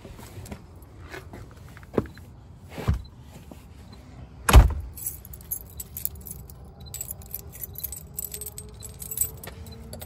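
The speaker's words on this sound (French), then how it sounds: "je vais ouvrir la voiture" Car keys jangle in a few short metallic bursts as a car is unlocked and opened, with a sharper clack midway and faint rustling in between.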